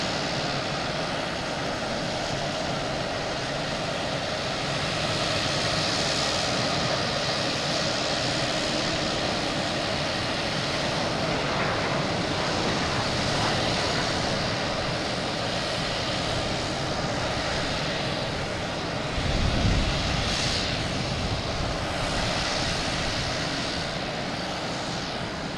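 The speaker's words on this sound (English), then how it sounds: "Boutique Air just starting their engines up." Boutique Air propeller plane starting its engines at Boston Logan Airport, a steady broadband engine roar heard at a distance, holding throughout with a brief louder surge near the end.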